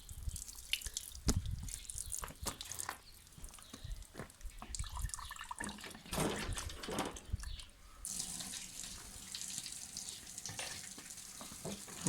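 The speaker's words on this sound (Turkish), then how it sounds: "Bütün kir, pas, su hep sakıyor." Dirty, rusty water drips and trickles out of a motorcycle fuel tank being cleaned, with irregular splashy drips and short pours, close and fairly loud, and no talking.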